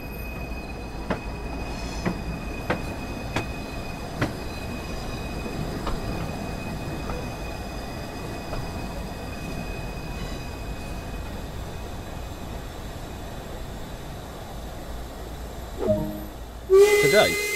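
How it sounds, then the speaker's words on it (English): A steam train in the video game Train Sim World 2 rumbles steadily in the distance with scattered clicks and clanks, growing louder near the end as it arrives at the platform. "Stand on the platform and wait for your train to arrive."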